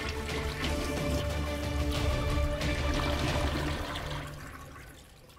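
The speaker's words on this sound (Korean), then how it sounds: "재빨리 변기물을 슉 하고 내렸죠" A toilet flushes in a rushing, gurgling surge of water that stays strong for several seconds, then drains and fades away alone, used as a horror-story sound effect.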